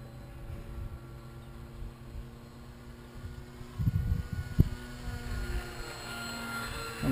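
An FT Bushwacker RC plane's electric motor runs at about 60% power outdoors on a calm day, a faint, steady hum that stays distant throughout, with a few soft bumps and rustles near the microphone.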